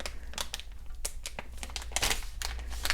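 Close-up crinkling and soft plastic clicks come in a quick, uneven series as a plastic zip food storage bag is pressed shut by hand, with no talking.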